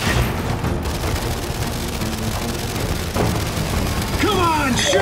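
Explosions from the shooter game Gears 5, in Horde mode with a Gunner using the Mulcher, sound as dense rumbling booms and clattering gunfire throughout, with metallic debris and sharp effects near the end.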